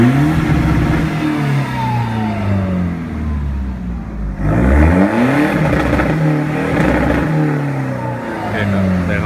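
A 2005 Chevrolet Colorado 2.5 pickup with a five-speed manual gearbox revs repeatedly after a remap, its engine note climbing and falling in loud close sweeps.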